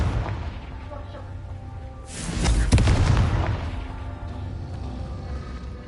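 Confringo spell blast in a Harry Potter video game: a sudden booming explosion bursts out midway, rumbles for about a second, then fades into ambient game background.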